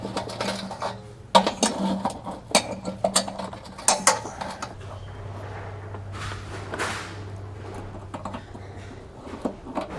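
Someone tightens a nut on a motorhome hose bracket with pliers, making a run of sharp metallic clicks and scrapes that grow sparser. A soft, steady hum continues underneath.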